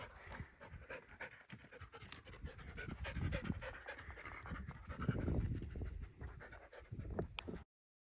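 Dogs pant hard and steadily after running around and playing on a mountain trip, the close, rhythmic breathing going on unbroken with no voices.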